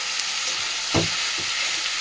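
Fish frying in a pan on low heat gives a steady close sizzle, with one stir of a spatula scraping through the hissing oil midway.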